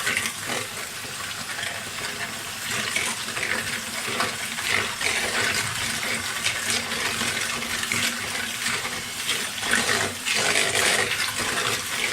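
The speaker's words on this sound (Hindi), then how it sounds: "अब मैं इसमें फ्रूट जूस डालूँगी, मैंगो का जूस डालूँगी।" Mango juice pours steadily into a bowl holding sugar, a continuous splashing, gurgling stream lasting about twelve seconds at close range with no talking.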